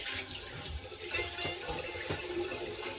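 A face is rinsed under running water at a sink, a continuous close splashing rush with irregular slaps of water from hands, with no voice over it.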